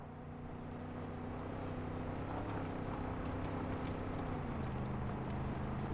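Vehicle engine droning steadily while driving in the video game Far Cry 5, a continuous low hum with faint wind, no talk.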